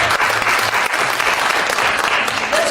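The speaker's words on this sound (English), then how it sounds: "Let's please give them a warm round of applause to thank them for their challenging jobs they have undertaken" Dense, steady audience applause fills a pageant hall, many hands clapping together at an even level for the full stretch, with faint voices mixed into the crowd.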